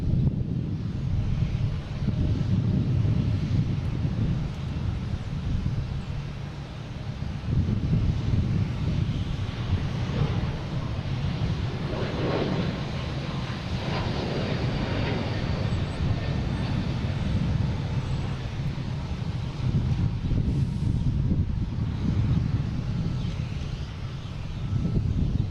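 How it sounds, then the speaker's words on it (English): JetBlue Airbus A321neo taking off from Boston Logan, a sustained low engine rumble that swells and fades, partly buffeted by wind on the microphone. "Also have a JetBlue taking off, heading to LAX, an A321neo"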